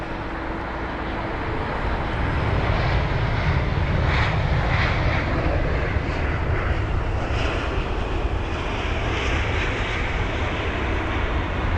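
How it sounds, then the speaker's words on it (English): An Airbus A319 airliner taxiing at London Heathrow, a steady loud jet engine roar with a broad rushing hiss that holds without a break throughout. "Now the Airbus A319 is 22 years of age and has suffered from a 40-minute delay."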